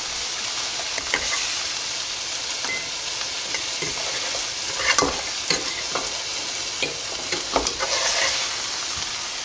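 Pork chops fry over a fire in a pan with a loud, continuous hiss and sizzle. Scattered clicks and scrapes of stirring or utensil contact are heard close by.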